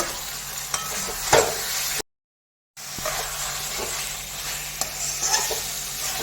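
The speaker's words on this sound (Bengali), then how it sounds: "আমি অল্প কাঁচা তেল দেবো নাড়ব" Mustard chicken sizzles steadily in a pan of oil while being stirred, with a constant frying hiss broken by occasional scrapes and clicks of the spoon. The sound drops out briefly partway through.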